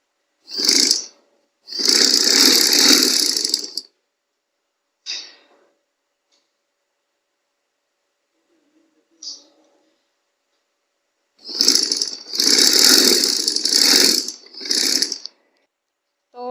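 Sewing machine stitching the fitting seam of a baby girl's summer frock, running in two long whirring bursts with short stops and brief taps between, loud and alone.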